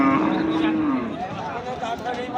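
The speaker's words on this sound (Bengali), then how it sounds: "অসংখ্য গরুর আমদানি হয় এই হাটে।" A cow at a busy cattle market gives a drawn-out moo at the start, which then fades into the low murmur and scattered noise of the crowd.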